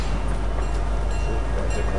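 A moving train in the Fortnite video game rumbles on steadily and loudly, with a low constant drone and faint rhythmic rattling of the cars throughout.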